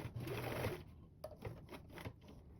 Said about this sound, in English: turn, and this time we're going to sew our diagonal down